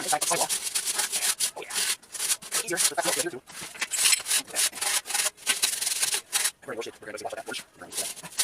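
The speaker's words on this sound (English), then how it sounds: "Here I have some 80 grit sandpaper. We're going to rough up the surface." 80 grit sandpaper roughs up the surface of a tire mounted on a rim, giving close, repeated scratchy rubbing strokes in uneven bursts with brief pauses.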